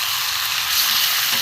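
Spice-coated chicken frying in a little oil for a chicken curry, a continuous close, loud sizzle with steady hiss and no talking.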